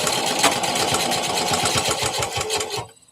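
A sewing machine stitches plush bear fabric with a tight stitch and 1/4 inch seam allowance, running as a steady, loud, close rhythmic whir for nearly three seconds before stopping abruptly.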